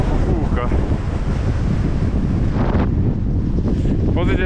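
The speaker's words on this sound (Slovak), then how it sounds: "len to tak trochu fúka." Strong wind on a mountain summit at about 2076 m buffets the microphone in a constant loud roar, with brief faint sounds breaking through.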